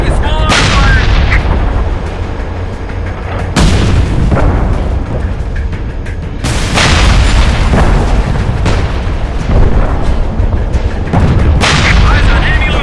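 Heavy gunfire and booming explosions in the World War III shooter Frontlines: Fuel of War, loud and continuous with repeated blasts and bursts, layered with battlefield noise and faint radio chatter.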